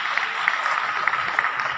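An audience at an international conference applauds a Vice Chancellor's acknowledgement, a steady wash of many hands clapping at moderate distance, filling the room evenly without pause.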